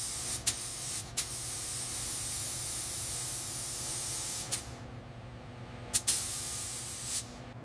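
Spray gun laying a clear coat on a 1926 Bentley Speed Six Tourer, a steady close hiss running throughout, broken by several brief sharp bursts as the trigger releases and resumes.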